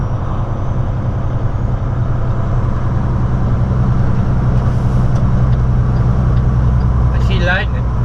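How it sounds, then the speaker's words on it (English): A truck's engine Jake brake drones loud and steady throughout, a continuous low rumbling rattle heard from inside the cab, with a brief higher chirp near the end. "We're having a Jake brake down."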